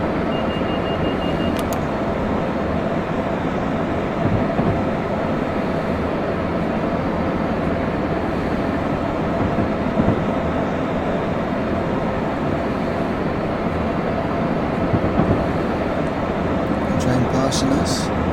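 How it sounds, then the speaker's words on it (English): A short diesel freight train passes on the right in Train Sim 2020, a steady loud rumble of engine and rolling wheels that holds for the whole stretch, with a few faint beeps at the start and end. "Train passing us. On the right, it's diesel. And a freight train."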